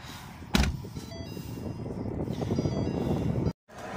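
A repaired car engine fires up with a sharp crank burst, then settles into a steady running hum for several seconds before cutting off abruptly, with no talk over it.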